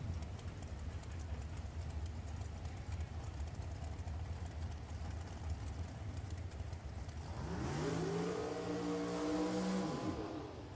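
An FTI dragster launches down a drag strip at Richmond Dragway. A faint, distant engine roar swells suddenly out of quiet background noise, rising in pitch before fading again.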